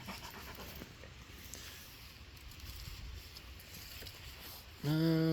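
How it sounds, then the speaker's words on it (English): A dog pants close by in quick, rhythmic breaths through most of the stretch, ending in a brief, sharp tonal squeak. "It's my dog, Duke."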